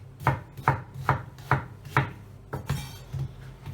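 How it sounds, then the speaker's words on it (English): Vegetables for ikra dip being coarsely diced with a knife on a board, a steady run of about eight crisp, evenly spaced chops close up, with no voices. "we just want to dice these but very coarsely"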